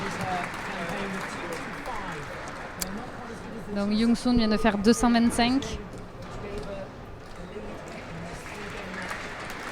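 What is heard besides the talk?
bowling hall audience applauding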